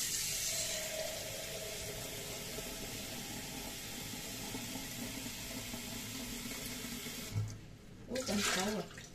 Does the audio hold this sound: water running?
yes